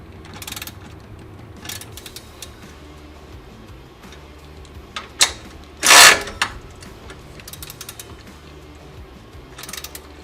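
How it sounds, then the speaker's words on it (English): Ratcheting and metallic clicks from tightening the bottom bolts on an ECU guard fitted to a Chevrolet Silverado ZR2, scattered bursts of close mechanical clatter with one louder grinding rasp midway. "tighten your bottom bolts all the way"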